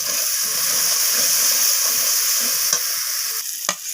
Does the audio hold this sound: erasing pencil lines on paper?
no